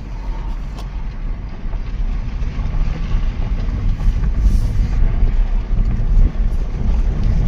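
A 2007 BMW 530xi shifted into gear sits running in a parking lot, giving a steady, loud, low rumble with wind-like noise throughout and no clear rise in revs.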